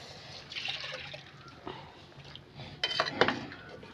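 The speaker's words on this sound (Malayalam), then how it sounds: "അത് നമുക്കതൊന്ന് കഴുകി ആ വെള്ളം നമുക്ക് ഒഴിച്ചു കൊടുക്കാം." A mixer jar is rinsed and its water poured into a Kerala fish curry of mackerel and mango, with soft splashing and trickling, light clinks of the jar against metal, and a couple of sharper knocks near the end.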